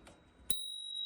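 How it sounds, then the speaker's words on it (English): A Spurcycle bicycle bell is struck once on a titanium road bike, giving a sharp, bright ding that keeps ringing as a clean, sustained tone to the end. Light background noise sits under it, with no talk. "The spruce cycle bell."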